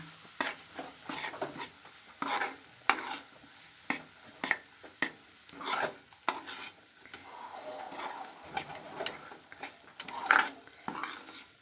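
Semolina is stirred in a hot pan for a sweet prasad, with repeated scraping strokes of a spoon against the metal and faint sizzling between them.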